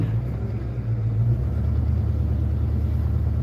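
Car engine idles and cruises with a steady low rumble, close and even, with no talking over it.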